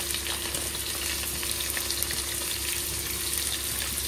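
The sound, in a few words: onions added to pan and frying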